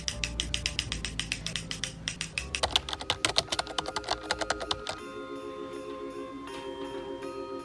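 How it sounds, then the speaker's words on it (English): Scissors snip thread ends off a handmade fabric Christmas garland chain, close and crisp, a rapid run of sharp clicks that slows to a steadier, softer snipping. "And now it's the worst part, which is snipping all these friggin' strings."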